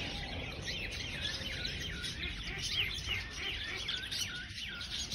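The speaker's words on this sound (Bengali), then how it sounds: "এখানে একটা পাখির খাঁচা আছে, বিশাল খাঁচা। এর ভেতরে কিন্তু পাখি আছে।" Many birds chirp and tweet continuously inside a large aviary cage in a forest park, their busy overlapping calls faint against a steady background hum.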